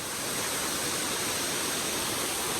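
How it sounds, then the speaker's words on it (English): A big waterfall with strong flow roars as a dense, steady, loud wash of falling water, constant throughout with no pauses. "It's a big waterfall."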